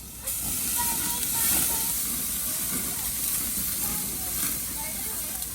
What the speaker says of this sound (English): Go ahead and flip my meat.